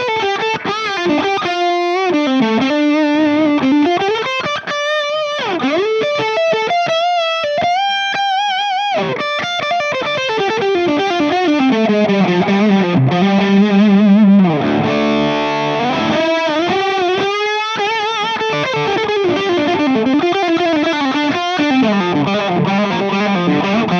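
Electric guitar lead through a Mesa/Boogie Recto-Verb tube amp in vintage mode, a smooth, sustained, singing distorted tone playing a continuous melodic line with bends and held notes, loud and alone.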